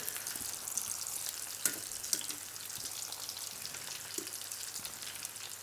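Potatoes with garlic and rosemary sizzle in hot oil, a soft, continuous crackling hiss with scattered small pops, fairly quiet and steady with no talking.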